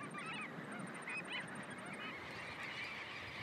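A flock of godwits roosting on the coast at Miranda, New Zealand, calls in a busy overlapping chorus of honking, nasal notes, fairly distant and continuous, with no voices.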